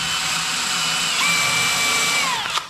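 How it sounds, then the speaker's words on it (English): A power drill bores at a slight angle into a 2x4 for a farmhouse-style table, a steady high-pitched whir at close range that strains in tone partway through, then stops abruptly. "I'm going to drill down in it at a slight angle"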